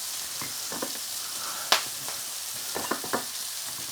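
Onions sizzle steadily in a pan, a close, even frying hiss broken by a few sharp taps and scrapes of stirring.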